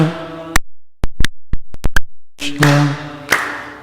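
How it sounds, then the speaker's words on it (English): Hands clapping along to a Hare Krishna chant, a handful of sharp, irregular claps spaced across a few seconds between stretches of sustained tone. "you can clap your hands"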